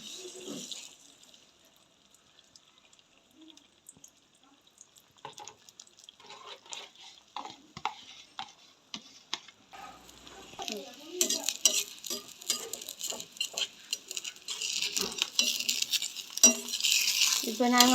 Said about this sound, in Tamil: இப்போ வந்து நாங்கள் முட்டையை இதில் கொடுப்போம்.